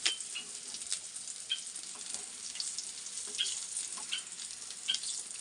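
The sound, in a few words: frying food sizzling in a pan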